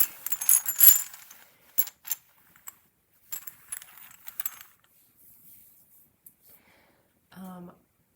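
Assorted coins handled and dropped on a hard surface, bright metallic clinks and jingles in short bursts with gaps between, close and fairly quiet, ending with a brief murmur of voice.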